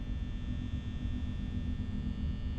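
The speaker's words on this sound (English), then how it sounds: "No sound can be heard besides the droning fan" An office fan drones in the Five Nights at Freddy's video game, a constant low rumbling hum that stays even and unbroken throughout, with no other sounds.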